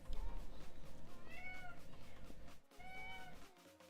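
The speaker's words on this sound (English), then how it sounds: "I think the kitties are going crazy behind me." Cats meow indoors in the background, with a few rising and falling cries in two bursts over a low rumbling murmur, fairly faint and at a distance.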